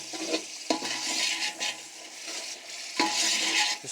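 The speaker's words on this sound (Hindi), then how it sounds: "इसको हमने यहाँ पे थोड़ा सा फ्राई करना है।" Beef sizzles in a pot while being stirred for yakhni pulao, a close, busy hiss broken by a couple of sharp spoon scrapes against the metal.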